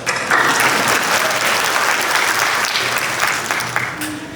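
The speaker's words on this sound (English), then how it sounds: "so we need to clap more" An audience at a community leaders' mental health conference applauds loudly and steadily, a dense wash of clapping that holds throughout and eases slightly toward the end.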